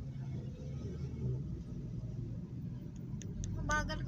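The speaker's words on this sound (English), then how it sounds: "This car is going fast." A car rumbles past at speed on a road near Mt. Sheridan, its low engine drone steady throughout, with a brief sharper burst near the end.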